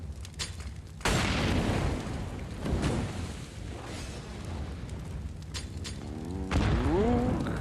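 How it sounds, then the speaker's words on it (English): A grenade blast in the Counter-Strike game during a WePlay Academy League match between NAVI Junior and MOUZ NXT, heard as a loud sudden boom with rumbling tail, followed by further deep thuds and bursts amid game noise. "Oh, that CT nade could have been huge."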